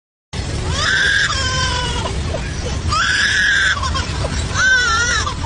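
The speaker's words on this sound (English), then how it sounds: "Lyrebird." A lyrebird calls loudly and up close in a few long, shrill, scream-like cries separated by short pauses, sounding almost like a human or infant shrieking.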